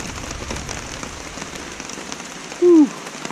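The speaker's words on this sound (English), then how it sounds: "we got set up just in time for the rain" Steady rain patters on a taut tarp close by in the Great Smoky Mountains, a soft even drumming with a brief whistling chirp near the end.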